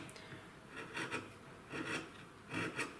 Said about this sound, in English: I'm just starting with a smaller chisel and then working my way up to the larger chisel